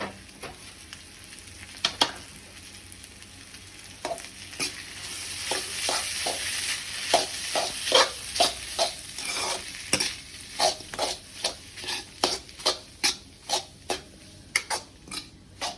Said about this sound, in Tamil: அந்த மசாலா கூட நூடுல்ஸ் ஒரு மிக்ஸ் பண்ணிவிட்டு சிக்கனையும் சேர்த்துக்கலாம்